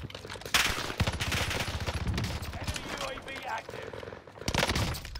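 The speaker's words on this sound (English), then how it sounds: "Why are you shooting at me?" Bursts of gunfire in Call of Duty Warzone, rapid cracking volleys layered with a player's voice talking over the shots.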